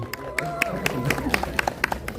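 An audience at a film press conference claps in a quick, scattered run of handclaps over roughly two seconds, mixed with talking voices nearby.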